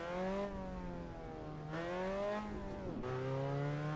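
A race car engine in the video game Assetto Corsa Evo revving hard through the gears, pitch climbing then dropping at each shift, steady and fairly quiet with no talking.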